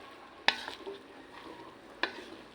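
Pancit canton noodles are stirred and mixed in a pan, two sharp scraping clacks of a utensil against the pan with a faint sizzle in between, close and quiet.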